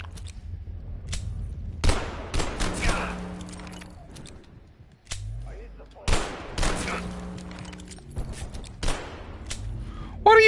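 Gunfire in the video game Abiotic Factor sounds as repeated sharp bursts and single shots with ringing tails, spread through the clip, under occasional talk.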